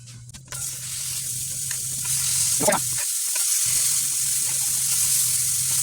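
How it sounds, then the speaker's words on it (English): Ground beef burger patties, pressed smash style, searing on a hot plancha. A loud, steady sizzle starts just after a short clatter and carries on close and unbroken, with no voices. "So we're going to go ahead and get our burgers on the plancha."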